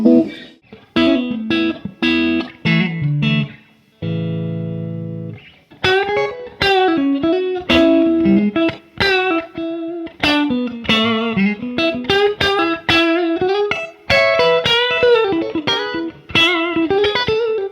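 Electric guitar through a Fender Deluxe Reverb '65 reissue amp capture, playing clean, chiming chords and single-note phrases with a roomy amp tone and natural reverb tail, steady and fairly loud.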